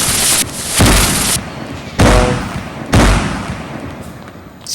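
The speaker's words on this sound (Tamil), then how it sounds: "இந்த மாதிரி எக்கச்சக்கமாக இந்த கேமில் வந்து வெடி இருக்குது" Diwali firecrackers burst in the Indian Bike Driving 3D video game, with loud explosive booms at irregular intervals, each followed by a crackling, hissing tail.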